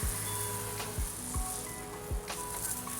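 An IK foamer sprays citrus pre-wash foam onto a Vauxhall Astra, giving a continuous close hissing spray broken by regular soft low thumps.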